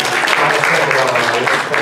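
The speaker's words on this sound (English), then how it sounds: "please give yourselves a round of applause" A dense, loud round of applause from an audience at a storytelling slam, sustained clapping throughout the short moment.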